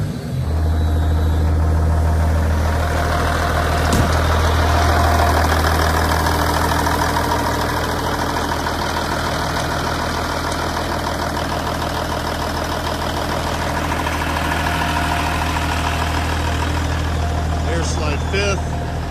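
A 1998 Kenworth W900 truck with an owner-installed engine idling, a steady low diesel rumble with a faint rhythmic knock, close and continuous throughout, with a voice briefly heard over it.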